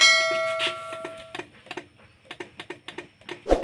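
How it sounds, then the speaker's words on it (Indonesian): Starter of a Honda Supra X 125 motorcycle with a faulty starter coil, giving a run of quick, light clicks in an uneven rhythm, close by and fairly quiet, with a sharper knock near the end. "ketika kita pencet tombol starternya dia cuman bunyi cetek-cetek ya."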